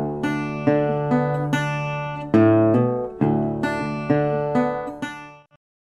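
A bottleneck blues guitar phrase is picked note by note, with bright plucked attacks that ring and decay, one hammered-on note and a final fade, played solo and close.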